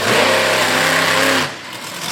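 A pulling truck at a truck pull in Durham, Connecticut, Austin Minton's Knucklehead, roars close and loud with a steady, heavy engine rev. It holds under strain, then drops off sharply to a lower idle rumble, with no talking.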